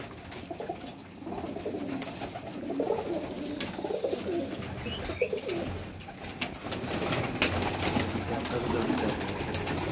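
Pigeons cooing in a loft, soft repeated low coos amid rustling and background noise, with faint voices now and then.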